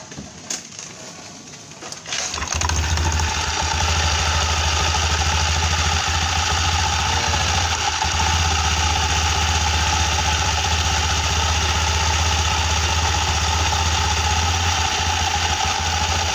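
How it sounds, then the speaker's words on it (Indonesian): A Honda Beat motorcycle engine starts after about two seconds of quiet, then settles into a steady, loud, even idle that hums on without a break. "Sekarang kita coba hidupkan untuk motornya"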